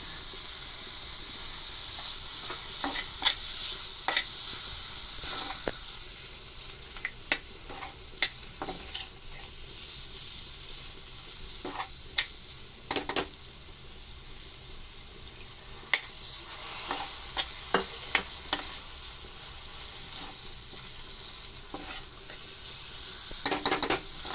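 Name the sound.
tomatoes and salt frying in a pan for brinjal curry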